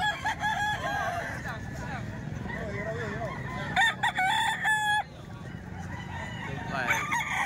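Chickens and roosters at a poultry market in Calumpit, with repeated crowing and clucking from several birds nearby, and brief faint talk in the background.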